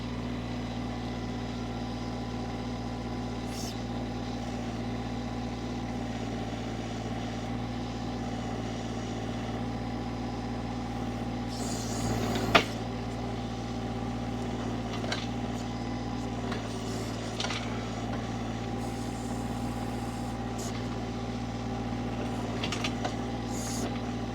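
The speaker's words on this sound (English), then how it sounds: "So we're going to hear some diesel noise here." The diesel engine of a Shanding SD12U Chinese mini excavator running at high, steady revs, a continuous droning hum with a few brief clanks and knocks along the way.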